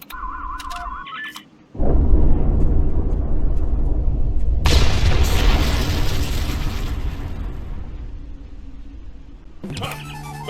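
A powerful explosion bursts suddenly after brief quiet, a loud roaring blast that surges again with a bright crackling flare, then rumbles down before other sounds return.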